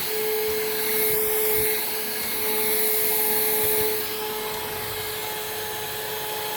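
A Hoover React cordless vacuum cleaner runs steadily up close with a loud airflow roar and a steady high whine, swelling briefly twice as it is moved, no talking.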